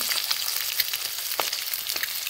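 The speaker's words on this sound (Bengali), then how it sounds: "ডিমটাকে আমি ভেজে নিচ্ছি" An egg frying in hot oil for an egg curry, seasoned with salt and turmeric, gives a steady, dense sizzle with small crackling pops throughout and no voices.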